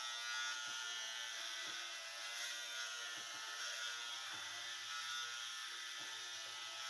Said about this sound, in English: I've never had a razor that works this good.